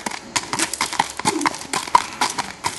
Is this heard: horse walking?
yes